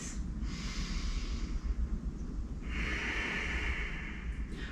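Deep, steady breathing during a morning yoga flow, airy inhales and exhales close to the microphone with a brief pause near the middle, no talking.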